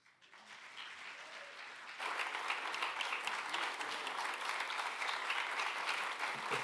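A concert audience breaks into applause, starting quieter and then swelling abruptly into a loud, dense, sustained round of clapping from many people.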